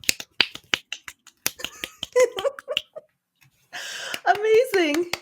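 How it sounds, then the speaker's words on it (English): Sharp finger snaps used as applause ring out in a rapid, uneven burst from several people, fairly close and crisp, with a voice speaking between them and talk near the end. "You're supposed to clap like this by snapping your fingers."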